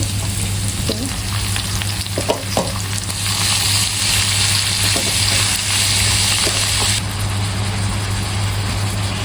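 Onion, chili and beef mince fry in a pan with a loud, steady sizzle, with occasional scrapes and clinks of stirring close by.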